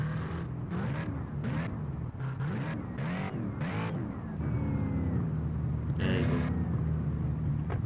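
A Hennessey Venom GT engine revs and accelerates in Need for Speed No Limits, a loud near roar with repeated rising revs and gear shifts under game music.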